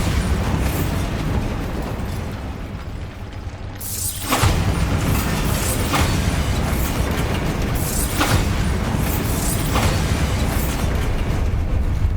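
The Bombarda explosion spell in Hogwarts Legacy goes off repeatedly, a series of loud, close booming blasts spaced about every two seconds over a dense rumbling game background.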